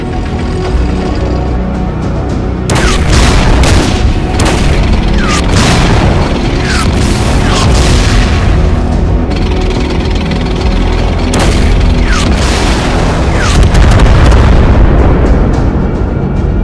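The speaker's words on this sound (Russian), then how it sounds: "По нам начинает работать артиллерия." Repeated booming artillery explosions in a cartoon about tanks, loud and dense with rumbling low end, several blasts landing one after another over continuous battle noise.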